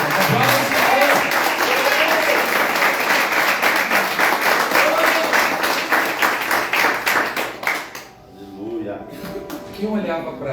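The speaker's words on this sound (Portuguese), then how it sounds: "Vamos dar uma salva de palmas ao Senhor." A church congregation applauds in a sustained wash of clapping while a preacher speaks loudly over it, the clapping fading briefly near the end before resuming.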